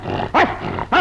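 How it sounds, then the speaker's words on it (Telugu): A dog gives two loud, close barks spaced about half a second apart, set in a film song sequence. "భౌమని మొరిగిందిర కుక్క"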